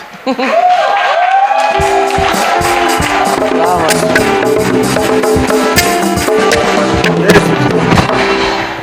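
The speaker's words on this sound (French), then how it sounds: "Let's clap them." A crowd at a church gathering claps loudly and continuously, a dense close wash of hands over several seconds, with voices and music-like tones mixed in beneath.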